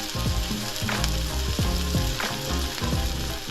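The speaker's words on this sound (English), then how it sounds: "Oh, listen to that sizzle." Sausage and hash frying in a hot skillet, a loud continuous close sizzle with rhythmic scraping and stirring clatter of a utensil against the pan, and no talking.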